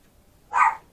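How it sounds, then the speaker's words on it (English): A single short dog bark from a nearby room indoors, sharp and moderately loud against a quiet background. "he will shut up and I won't know what he was barking at"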